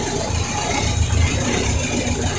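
An engine running steadily just after its first start on a push button, throttle held low, giving a rough, rumbling idle heard close and alone.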